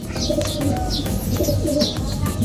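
A racing pigeon's soft, repeated coos roll on steadily over a low background hum, with faint chirps scattered above.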